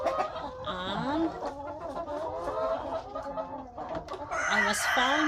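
Farm chickens cluck and chatter in overlapping calls, with a rooster-like crow rising near the end, moderately close and steady.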